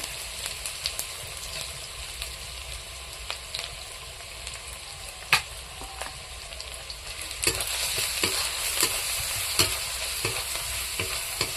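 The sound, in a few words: tempering spices in hot oil with chili powder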